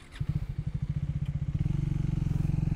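A Triumph Speed T4 motorcycle idles with a rapid, uneven thumping putter that lopes and drops away as the engine falters toward a stall, heard up close at night on a beach road.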